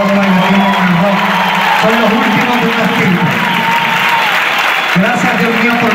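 Sustained applause from an audience, loud and steady throughout, with a tonal musical drone and some voices mixed underneath.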